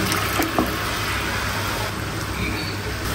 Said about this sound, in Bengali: এখন আমি ডালটা ঢেলে দিচ্ছি